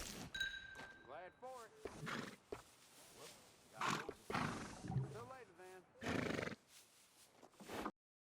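Horse neighs and snorts from Red Dead Redemption 2 come through in several separate bursts, mixed in among voices talking at a stable.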